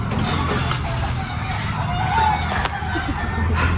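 Chickens cluck in a steady backyard mix under continuous low background noise, with faint distant voices nearby.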